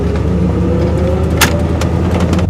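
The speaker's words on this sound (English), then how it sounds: "The engine is like so smooth." Steady, smooth engine hum of an old SUV cruising along, a low drone with faint road noise and a couple of brief ticks, heard from inside the cabin.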